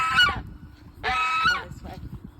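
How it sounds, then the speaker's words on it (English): Two loud, harsh goose honks close by from a farm guard goose, with a fainter third call trailing off at the end. "Gandalf, our guard goose, will come and say hi."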